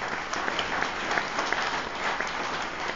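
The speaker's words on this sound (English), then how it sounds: "let's give them a nice round of applause" An audience at a county fair agricultural awards event claps steadily, a dense wash of applause from many hands throughout, fairly close and even in loudness.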